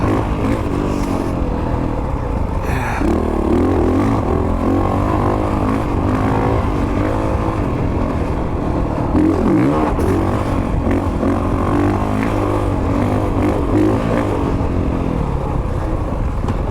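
A 2022 Honda motorcycle rides through a corner, its engine a loud, continuous close drone with wind rush and slight shifts in pitch.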